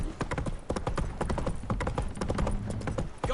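Roach, the horse in The Witcher 3, gallops in a fast, steady run of clip-clopping hoofbeats, close and loud, with no voices over them.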